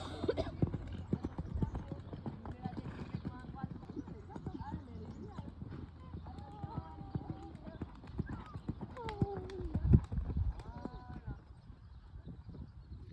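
A horse trots steadily in a jumping lesson, with continuous rhythmic hoof clip-clop near and far across the arena, a brief snort, and a person talking over it.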